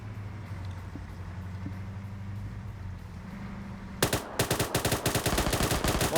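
Rapid bursts of gunfire from the Operation Flashpoint video game, in a Russia versus NATO match, break in loudly after a low rumbling stretch and repeat in quick clustered shots to the end.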